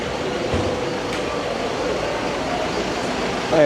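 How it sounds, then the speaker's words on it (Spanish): Strong air conditioning hums steadily inside a Panama supermarket, a loud broadband rushing drone filling the space with no clear talk over it. "qué fuerte está el aire acondicionado"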